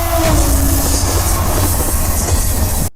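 A train rumbles and clatters past loudly with wheel squeal and a rolling rail rhythm, continuous until it cuts off abruptly, with no voices.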